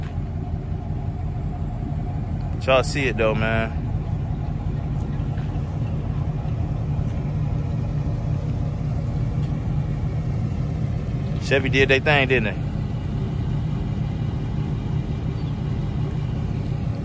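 A 1999 Chevy Tahoe and a 1995 Impala SS, both with dual exhaust, hold a steady low rumble throughout, with someone talking over it.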